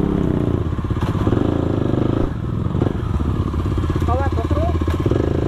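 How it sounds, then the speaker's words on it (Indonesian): A KTM RC 250 sport bike's exhaust rumbles steadily at close range with a dense, throbbing note and occasional rattles, while people talk over it. "Wih, suaranya tambah padat nih knalpot."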